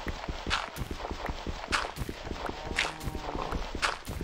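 A cow moving in Minecraft, a rapid series of soft thudding footstep clops with bright clicky accents, steady and continuous, close and moderately loud, with faint game background sounds.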